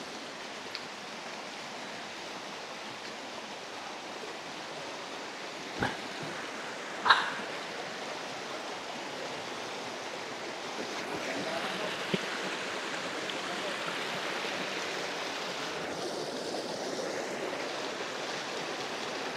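A river in Indang, Cavite flows over slippery rocks during a nature walk toward a waterfall. Its steady broadband rush stays even throughout, with a couple of faint knocks and no talking.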